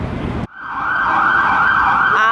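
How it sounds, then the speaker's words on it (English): A loud emergency siren wails close by amid city traffic noise at 56th and Broadway in New York City, its tone holding high and steady after a brief cut. "Ah, the sounds of New York. Sirens, lots of traffic"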